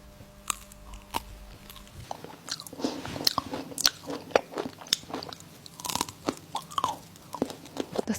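Crispy chocolate being bitten and chewed up close, a series of loud crunches and crackling bites repeating irregularly with no talk.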